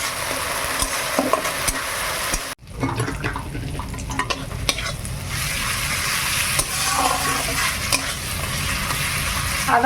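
Ginger, garlic and cumin paste fries in a pan with a loud, wet hiss that flares as the paste hits the oil, then settles into steady sizzling with occasional stirring scrapes nearby.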